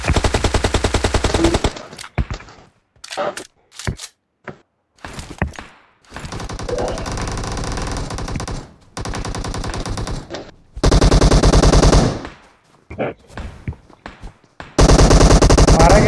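Automatic weapon fire in PUBG Mobile on the Vikendi map, long sustained bursts alternating with short single shots and brief silences, loud and close.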